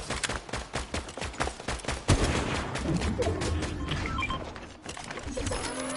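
Rapid bursts of automatic gunfire in the Fortnite video game crackle in dense volleys for the first two seconds, then give way to a loud continuous rumble and scattered shots, with faint talk mixed in.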